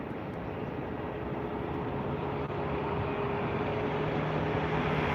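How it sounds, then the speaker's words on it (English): Aer Lingus airliner landing at Dublin Airport, a steady broadband engine roar held at an even, fairly loud level throughout, with a faint low tonal hum running beneath it. "I want to see the Aer Lingus landing"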